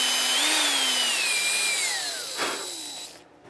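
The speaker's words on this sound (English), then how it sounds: "you pre-drill" A power drill whines close by as it pre-drills a hole in maple wood, its pitch sagging under load before the bit breaks through and the motor winds down.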